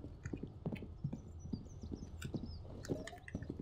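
Horse hoofbeats in a riding video game sound as a steady, rhythmic clip-clop of a fast-moving horse, close and fairly loud, with no talking.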